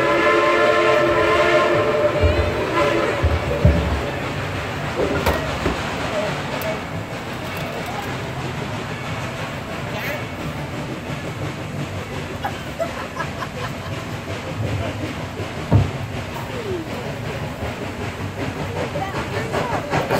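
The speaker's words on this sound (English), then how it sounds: "Here comes the train." A Dollywood theme park train rumbles past steadily, loud and close, with a whistle sounding early on over the continuous rolling noise.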